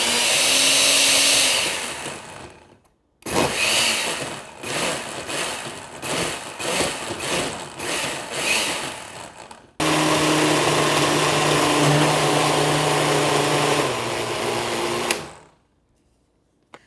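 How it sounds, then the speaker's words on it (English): A blender whirs loudly as it purees vegetables and broth for mole sauce. It runs in a long burst, then a stretch of short pulses, then another sustained run before it cuts off. "we're going to blend it up now."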